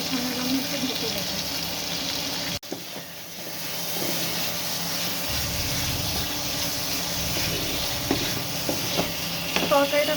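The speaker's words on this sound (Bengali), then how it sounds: "তো এখন এটা আমি ভালোভাবে কষিয়ে নেবো" Curry with puti fish is stirred and fried in a pan, giving a steady close sizzle with scraping stir sounds, a sharp clack early on, and some watery bubbling throughout.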